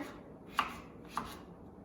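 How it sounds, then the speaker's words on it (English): Two crisp knife chops through cucumber on a cutting board, evenly spaced about half a second apart, quiet and close. "Go ahead and just chop this through really nicely"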